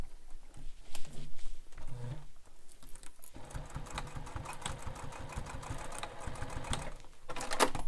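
A sewing machine stitches the side seam of a fabric messenger bag through thick quilting-cotton layers, running in a steady continuous whir after a few short starts, close and fairly loud.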